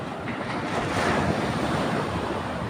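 Sea waves wash steadily onto a beach, a broad continuous rush of surf with a gentle swell in the middle, mixed with wind buffeting the microphone and no voices.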